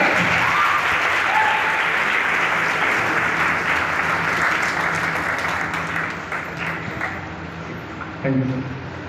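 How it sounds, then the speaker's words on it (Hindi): Sustained applause from a seated audience welcoming a speaker onto the stage at a health-plan talk, dense and steady before tapering off, with a voice speaking briefly over it. "तालियां जोर से बजाइए सर."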